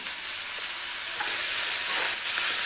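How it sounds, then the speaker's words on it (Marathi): Onion frying in a pan until soft, with a steady close sizzle and occasional scraping stirs, no talk. "व्यवस्थित कांदा कांदा भाजून घ्यायचा आपल्याला पूर्ण सॉफ्ट झाला पाहिजे"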